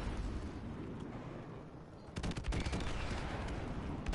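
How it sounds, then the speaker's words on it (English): A machine gun fires in Call of Duty Modern Warfare Remastered, a rapid burst of loud close shots erupting over steady rumbling background noise, with scattered single cracks following. "I'm not really liking this battle machine gun that much"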